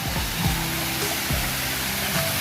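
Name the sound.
waterfall at Yercaud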